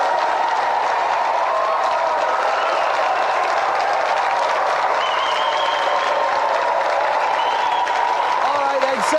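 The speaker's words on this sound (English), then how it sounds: "Round of applause for our 3 challengers." A studio audience on a retro video game TV show gives a round of applause, a dense, steady wash of clapping and crowd noise with a faint voice or tone rising briefly through it.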